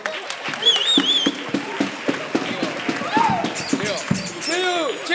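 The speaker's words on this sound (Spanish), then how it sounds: "¡Un aplauso!" Carnival group audience in San Bartolomé breaks into scattered applause, uneven sharp claps at close range mixed with shouting voices, whistles and talk throughout.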